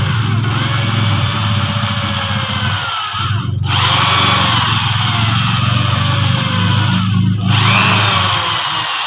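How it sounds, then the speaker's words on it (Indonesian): Power drill boring a hole into a ZS1115 single-cylinder diesel engine, a steady loud whine running the whole time with two brief dips where the bit eases off, no talking over it. "pertama kita bor di titik sini ya, yang sudah kita tentukan ya"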